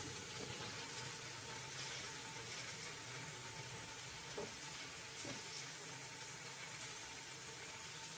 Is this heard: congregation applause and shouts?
no